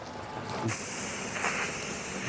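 A steady spray hisses without pause, with a sharp rise in intensity partway through.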